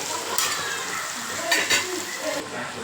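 Thuthuvalai leaves wilt in a hot pan with a steady sizzle, while a spatula stirs and scrapes in a few short bursts throughout.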